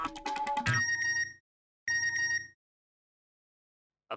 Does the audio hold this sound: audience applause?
no